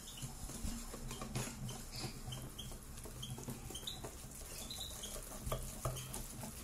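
Flour and hamburger bun dough being mixed in a bowl, with soft continuous stirring, light scraping and faint clinks of a utensil, quiet and without speech.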